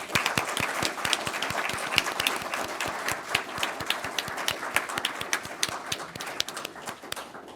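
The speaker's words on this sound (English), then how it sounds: "Let's give him a round of applause" An audience at a Los Angeles fire commission meeting gives a round of applause for an honoree, a few close, sharp rhythmic claps over a steady crowd clapping wash that carries on evenly before tapering at the end.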